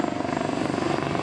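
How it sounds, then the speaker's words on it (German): Airbus Helicopters EC145 T2 with twin Arriel 2E turboshaft engines and a shrouded Fenestron tail rotor in flight, a steady, fairly loud rotor and turbine drone with even pulsing throughout. "Not only a very quiet, but a very safe helicopter this, powered by a pair of Ariel 2E turboshaft engines."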